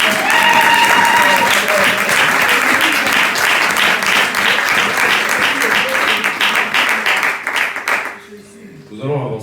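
A church congregation at a Sunday service applauds the Lord with sustained, loud, dense clapping and some voices mixed in, before it tapers off near the end.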